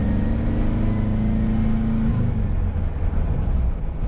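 A Subaru Loyale engine fitted with an upgraded fuel pump runs steadily close by, a loud continuous mid-pitched drone with a slight shift in tone partway through.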